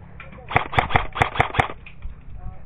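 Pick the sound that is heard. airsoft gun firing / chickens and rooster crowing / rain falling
airsoft gun firing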